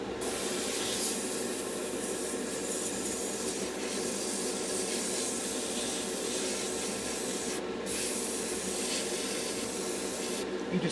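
Airbrush spraying dark paint onto a Trumpeter Stryker scale model, a continuous close airy hiss running steadily throughout with two very brief dips in intensity, no voices.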